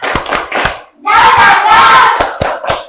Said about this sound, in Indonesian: Yuk kita mulai ya, yang semangat. Tepuk semangat.